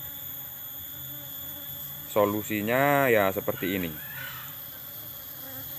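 Honey bees buzz loudly near a hive in a sudden close burst lasting a couple of seconds, with someone talking before and alongside them.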